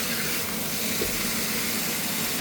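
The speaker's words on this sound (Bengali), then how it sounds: "এবার আমি এই পুঁই শাকের ডাঁটাগুলো এর মধ্যে দিয়ে দিলাম" Malabar spinach stalks frying in a pan along with potato and pumpkin, giving a steady, even sizzling hiss that runs without a break and with no voices over it.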